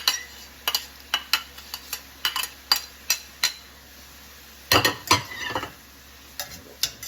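A spoon scrapes and clacks in a pan as onion and garlic are stirred into cooking beef and sausage meat, with a steady sizzle beneath a run of sharp, irregular knocks and a louder cluster near the end.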